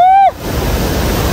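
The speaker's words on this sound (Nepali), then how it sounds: "मुहान पोखरी चाहिँ नि यसरी माथिबाट झरना आएर यस्तो रहेछ" A waterfall at Muhan Pokhari pond, where water drops from above, gives a steady broadband rush once a short tonal whistle cuts off at the start.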